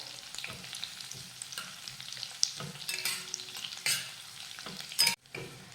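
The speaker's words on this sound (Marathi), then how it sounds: "आता हा लसूण तेलावर परतून घेऊयात" Crushed garlic cloves frying and being stirred in hot oil for a home-cooked vegetable dish, a faint, close sizzle with scattered scraping stirs and no talk.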